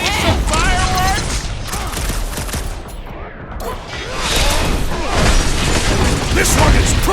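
Booming explosions and rapid crackling bursts from fireworks in the video game Guardians of the Galaxy, set on Knowhere, keep up a loud, dense barrage with game effects mixed in and voices shouting over it.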